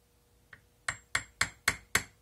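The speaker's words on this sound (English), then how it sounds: "as you're hammering on it, the ring is going to stay tight" A jeweler's hammer strikes a ring on a steel mandrel: one light tap, then five sharp, evenly spaced metallic blows ringing clearly in a quiet room.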